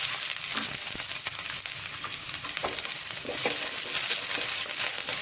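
Onion sautéing in hot oil with garlic, mustard seeds and urad dal, a steady dense sizzle with scattered pops and crackles throughout.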